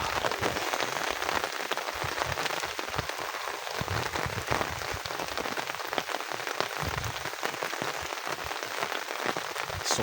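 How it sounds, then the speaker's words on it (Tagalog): Steady rain drums on a surface at a farm, a dense, continuous patter of drops with no break throughout. "Sarap ng ulan."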